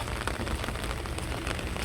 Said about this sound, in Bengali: আজকে প্রচুর পরিমাণ বৃষ্টি হচ্ছে